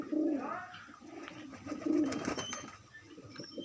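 Pigeons coo in a home loft, two clear rolling coos close by over a steady faint background hum.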